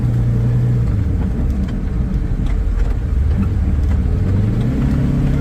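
A vehicle plowing a snow trail in a backyard, its engine a loud, close, steady drone with shifting pitch as it moves.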